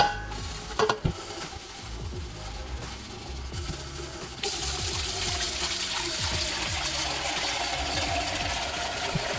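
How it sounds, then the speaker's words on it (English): A stainless steel pot is scrubbed with a sponge and powder cleaner, giving close, wet, rhythmic rubbing and swishing strokes, with a brief clatter near the start and steady running water in the second half. "Now you guys want to use a sponge or something to kind of clean it."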